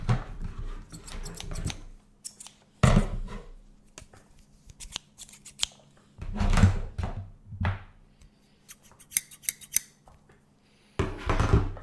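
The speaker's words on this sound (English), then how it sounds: "we're going to open our junk mail with the scissors" Scissors snipping through junk mail envelopes and paper, sharp rustling cuts in several bursts with quiet pauses between, close and fairly loud, with a low steady hum underneath.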